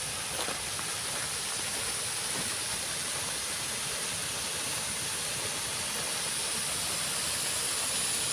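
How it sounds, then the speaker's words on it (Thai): A continuous roar of rushing water, like a waterfall, holds steady throughout without talking. "ขยายถ่ายให้ดูน้ำตก"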